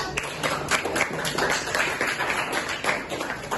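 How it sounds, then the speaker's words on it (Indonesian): Students in a classroom clap for a group of classmates, a dense, steady patter of hand claps lasting a few seconds at close range with no voices over it. "terima kasih tepuk tangan untuk kelompok"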